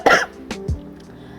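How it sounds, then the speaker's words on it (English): A person gives one sharp, close cough, followed by a quieter throat sound and a faint breath. "that was the cough that I was waiting for and expecting"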